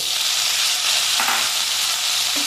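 Tomatoes frying in a pan with softened onions while being stirred for kara chutney, a steady close broadband sizzle with a couple of soft stirring scrapes.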